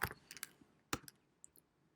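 Typing on a computer keyboard: a short run of crisp, close key clicks in two quick bursts with brief pauses, then a few lighter taps, no talking.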